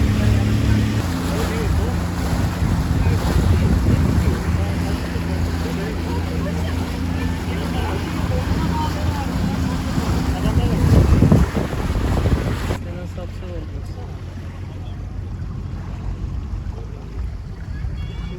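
Boat motors slowly on the sea near Didim Akbük with constant wind buffeting the microphone and water washing alongside, a low engine hum underneath and people talking aboard.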